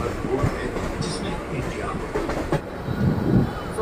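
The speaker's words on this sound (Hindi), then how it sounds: "यहाँ से ट्रेन चल रही है" A local train rumbles and clatters past a station platform in Mumbai, loud and close, its rail noise continuous with a few sharper knocks, while a voice talks over it.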